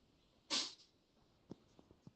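One sharp sneeze bursts out near the start on a livestream, loud and brief, followed by a few faint soft clicks and small noises in an otherwise quiet room.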